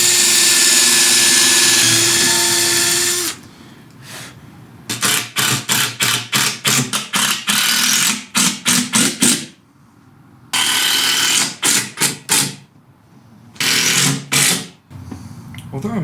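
Cordless power driver whirring in repeated short bursts as screws are driven into wooden workshop shelves, loud and close, with a longer steady run at the start and brief pauses between bursts.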